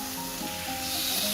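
Chicken steak frying in a pan over a slow flame, a steady close sizzle and hiss with a faint low hum, unbroken across the short moment.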